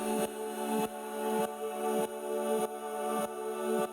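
Vox Synth Gaze patch from the Synth Gaze Kit playing a steady, dense pad chord with a soft pulsing swell repeating roughly every 0.6 seconds, sustained and alone with no voices.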